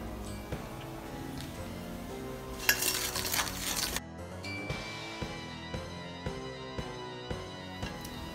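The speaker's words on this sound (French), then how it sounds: "Ensuite, nous allons verser dedans le sucre. Et on va mélanger." Sugar is stirred into a mixture in a bowl, a spoon clinking and scraping in repeated close strokes, with a brief louder rustle of pouring early on and no talking.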